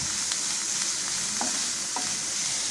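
Green chilli and curry leaves being stirred into a sizzling prawn filling in a pan, a continuous loud hiss with a few spoon scrapes, close and with no voices.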